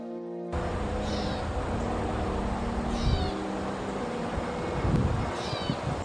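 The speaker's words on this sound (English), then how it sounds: "I'm like thinking how much this bird sounds like a cat, and it's a gray cat bird." A gray catbird gives cat-like mewing calls at Wolf Lake, three separate short mews spaced a couple of seconds apart over a steady outdoor background.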